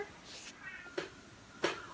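A kitten meows a few times indoors, short soft calls close by against a quiet room during a knitting session.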